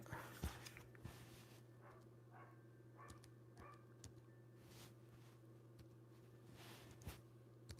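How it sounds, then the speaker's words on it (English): A dog barks outside at a distance, giving a few faint, scattered barks and yelps over a steady low indoor hum. "You hear my dog barking out there?"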